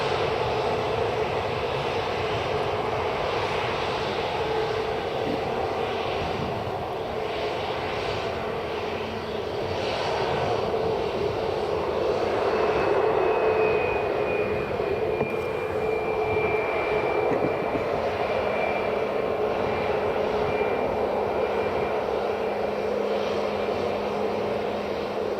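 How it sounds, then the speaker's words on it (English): A six-year-old WestJet Boeing 737 MAX 8 lining up on the runway at Edinburgh Airport, its engines giving a continuous low, loud rumble with a thin whine rising and falling over it, with no voices. "So this is WestJet 737 Max, Charlie Golf Whiskey Lima Kilo, heading to Toronto"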